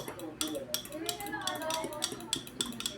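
Spoon stirring okra juice in a container, producing a quiet series of rhythmic clinks and scrapes against the sides while a person talks.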